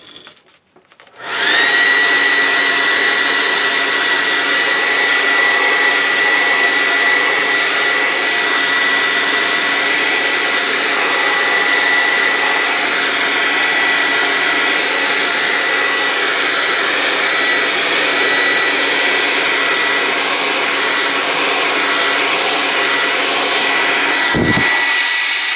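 A heat gun blows steadily to heat-set Neoeco paint on baits, a loud, continuous whooshing roar that switches on after a second and runs unbroken for over twenty seconds before cutting off near the end.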